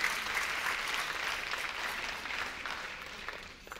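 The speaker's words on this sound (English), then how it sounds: "give yourselves a round of applause" A keynote audience applauds steadily, a dense wash of many hands clapping at once that holds throughout and fades slightly at the end.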